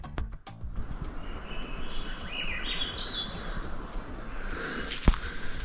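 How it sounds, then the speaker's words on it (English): Birds chirp and sing faintly in a dark forest near Nakusp, British Columbia, against a quiet outdoor backdrop, with footsteps crunching nearby and a sharp knock near the end. "listen to the birds"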